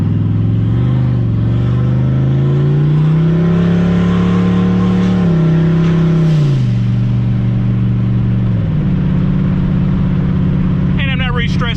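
Turbocharged Ford Mustang accelerating during a pull on low boost, its engine droning loudly and climbing in pitch through gears, with a brief squeal of tires near the end.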